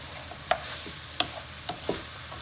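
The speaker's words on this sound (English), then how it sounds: "we'll give it a mix around" A spoon scrapes and taps through Mexican rice in a pan over the heat, giving four or five sharp, separate clinks and scrapes spaced across a quiet background with a faint low sizzle.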